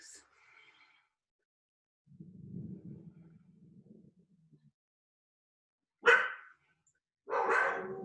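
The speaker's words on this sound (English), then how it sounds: "Sorry, my dogs are barking." A couple of sharp dog barks ring out in short bursts, after a low muffled rumble and a faint voice earlier on.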